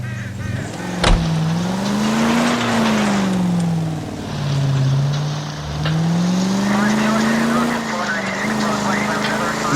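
A car drives in the video game L.A. Noire, its engine droning and rising and falling as it accelerates and shifts, with a sharp thump early on and voices talking over the engine noise.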